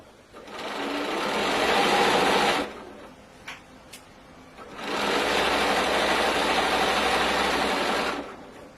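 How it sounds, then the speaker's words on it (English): A domestic sewing machine stitching fabric for a picnic bag runs in two fast, steady whirring bursts of a few seconds each, close and loud, with a short pause and faint clicks between them. "I'm trying to sew fast"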